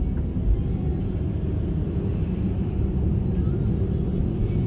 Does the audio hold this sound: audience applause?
no